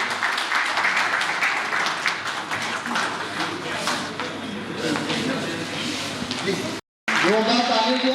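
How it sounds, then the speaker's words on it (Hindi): An audience at an alumni association's annual general body meeting applauds loudly to welcome a guest of honour, a dense sustained clapping that fills the room, breaking off briefly before a voice begins to speak. "जोरदार तालियों से आप इनका स्वागत कीजिए।"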